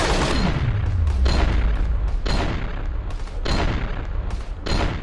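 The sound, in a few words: toy AK-47 rifle gunfire sound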